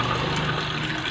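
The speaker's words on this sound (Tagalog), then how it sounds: "Lagyan ko muna ng tubig." Water runs steadily into a cooking pot for boiling lemongrass, a close, continuous pouring wash with no break and no voices.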